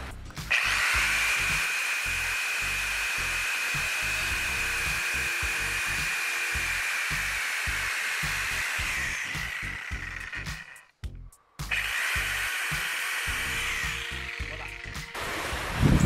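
A multipurpose hand saw with interchangeable blades cuts through a branch of a majestic tree during a pruning lesson: a steady rasping with quick rhythmic strokes, a short pause near the end, then sawing resumes close up.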